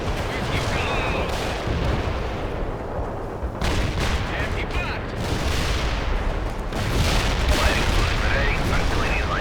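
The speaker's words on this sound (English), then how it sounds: "Artillery lined up. Firing." Artillery firing in World in Conflict, repeated loud booming blasts and crackling fire over a continuous rumbling battlefield din, with voices talking throughout.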